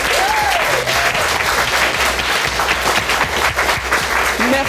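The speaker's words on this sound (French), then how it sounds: "Merci à Karidja, déjà, on peut l'applaudir." A studio audience breaks into loud, continuous clapping for actress Karidja Touré, dense and steady throughout, with faint music tones beneath.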